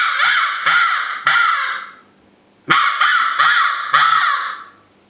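A hunting call imitates a male fox's bark, giving six harsh raspy calls in two groups of three, each sharply attacked and trailing off, loud and close with no talk.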